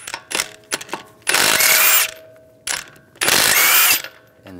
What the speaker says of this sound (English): We're going to remove the wheel, use a 19 millimeter socket,